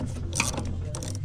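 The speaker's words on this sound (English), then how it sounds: "once we've got the tool back in place and the pulley on, we can just go ahead and give it a tighten" Short mechanical clicking and ratcheting from a tool tightening the alternator pulley on a Vauxhall car, heard close over a low background hum.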